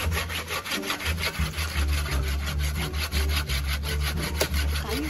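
Wood being sawn by hand in a bamboo forest, a steady back-and-forth rasping with repeated strokes, fairly close and loud, with no talking.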